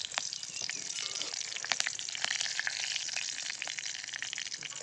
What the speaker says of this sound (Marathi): तेल तापलं आता आपण ह्याच्यात जिरे, मोहरी आणि कढीपत्ता टाकणार आहे